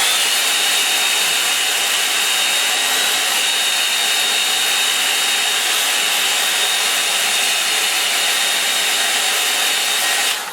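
Hair dryer blowing on a watercolour painting, a loud, constant whooshing hiss running unbroken for about ten seconds before cutting off.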